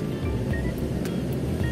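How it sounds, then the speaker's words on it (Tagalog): A steady 175 cc motorcycle engine rumble with low-frequency drone, running continuously throughout, fairly close with no speech, on the Atimonan zigzag road in Quezon. "Malakas makina yan."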